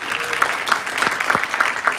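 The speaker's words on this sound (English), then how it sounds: "Ladies and gentlemen, another applause for Atif Khan." Audience at a live human-rights event applauding, steady dense clapping from many hands over the full two seconds, fairly close and moderately loud with no break.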